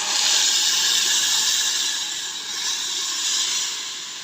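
Tomato sauce hitting a hot pan of frying garlic, a loud, continuous broadband sizzle that swells and eases slightly but never stops, with no voices.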